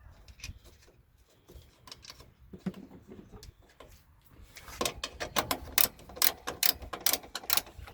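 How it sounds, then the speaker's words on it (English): Ratchet wrench clicking in quick bursts while tightening radiator mount bolts on a Toyota Tarago/Estima/Previa, close and fairly loud, with quieter handling noises beforehand. "I'm just using the wrench. I'm just going to tighten it up to where it's tight for me."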